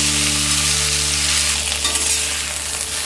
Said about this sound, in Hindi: अब हम इसमें डालेंगे ये सोक्ड लाल मिर्च, और इसे हम लो फ्लेम में फ्राई करेंगे